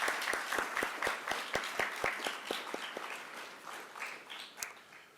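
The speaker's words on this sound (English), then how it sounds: "can we just give a quick, great applause just for that?" An audience at a District 1 candidate forum held at WSU applauds with a dense burst of many hands that gradually thins to scattered claps and fades out over about five seconds.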